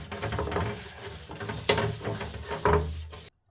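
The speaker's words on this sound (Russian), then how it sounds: "а потом щеткой уже зачищаем" Stiff brush scrubbing a robot vacuum cleaner part, close and rhythmic with repeated scraping strokes and a few sharper knocks, ending abruptly.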